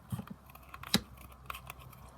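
Scissors snip through a paper junk journal piece for a vintage postage stamp charm, giving a few quick, close, crisp cuts with light paper rustling between them.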